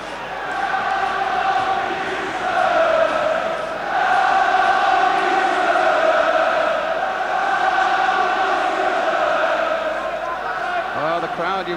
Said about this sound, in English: Well, the crowd, you can hear, come on you Spurs, one last big effort.